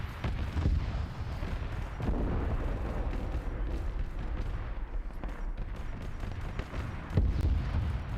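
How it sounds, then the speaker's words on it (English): Dense video-game battle soundscape of artillery and gunfire in a winter city takeover, continuous rumbling booms and crackling shots layered loudly over the whole stretch with no speech. "Yeah, you can hear there's the massive amount of ordnance around."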